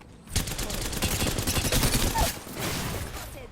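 Sustained automatic gunfire in the battle royale game Apex Legends, a loud continuous rattle of rapid shots close by that eases slightly toward the end.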